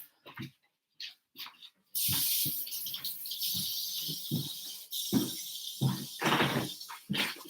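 Tap water runs loudly and steadily over combs being rinsed in a sink, preceded by a few short knocks and clatters, with a hollow splashing rush that shifts as the combs move under the stream.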